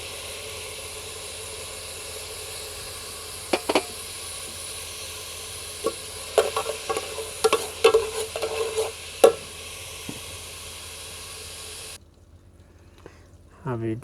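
Onions and garlic fry in a pan, browning for an aloo chicken curry, with a low steady sizzle under a run of sharp scraping stirs at mid distance before the frying noise abruptly drops away.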